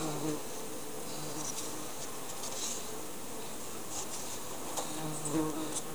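A steady, dense drone of many honey bees buzzing close by at a hive, with individual insects briefly louder as they fly past.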